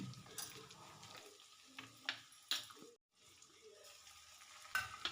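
Onions, egg and ginger-garlic paste frying in oil in a home kitchen, with soft sizzling broken by a few louder scraping stirs and a short pause partway, no talk.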